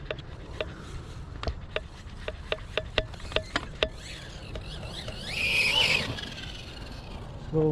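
A Hoabo Hyper TT big-block brushless RC car tumbles off road with a run of sharp clacking impacts, then a high whining motor squeal rises and falls near the end.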